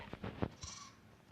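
A Minecraft goat bleats in a short, faint burst of a few wavering cries, heard alone with no talking.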